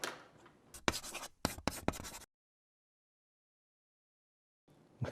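A pen scratches across paper while a cartoonist draws a Ducobu comic page. Several quick, close strokes come in a burst, then a long silence, then a brief return of scratching at the end.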